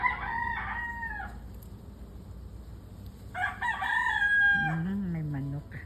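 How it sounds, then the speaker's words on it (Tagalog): A rooster kept by a neighbour crows twice fairly close by, each call a drawn-out cock-a-doodle-doo with a brief cluck between, over a quiet outdoor background. "May manok silang alaga dito sa kapitbahay ko."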